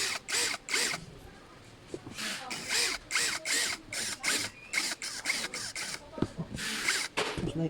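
A bolt being fastened into a T-nut while assembling a polyurethane executive office chair, heard as repeated close, rhythmic bursts of ratcheting clicks separated by brief pauses.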